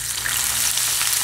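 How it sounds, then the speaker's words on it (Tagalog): Carrots and potatoes fry in a pan for beef giniling, making a loud, dense hiss of hot oil up close with faint stirring and no voices. "unahin ko munang ipirito yung carrots natin saka yung patatas natin."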